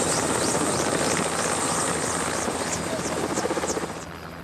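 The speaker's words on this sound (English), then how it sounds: "The helicopter can't actually settle on the ground because it's too marshy, so we have to unpack in a rush." A helicopter hovers just above marshy ground in a remote wilderness, its loud, dense rotor and engine roar filling the whole stretch with a rhythmic blade chop that fades slightly toward the end.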